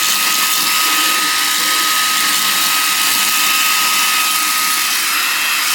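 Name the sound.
Xiaomi Mi Vacuum Cleaner Mini running with high suction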